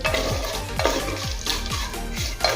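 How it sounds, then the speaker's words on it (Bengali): Cashews and peanuts fry in a pan over a low gas flame, with a steady sizzle under repeated rhythmic scrapes of a spoon stirring them around the pan. "কাজু বাদাম আর চিনে বাদাম দুটোই ভালোভাবে ভাজা হয়ে গিয়েছে।"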